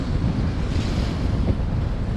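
Strong wind of about 20 knots and rough waves at sea aboard a sailboat, heard as a constant loud roar of wind buffeting and rushing water with no break.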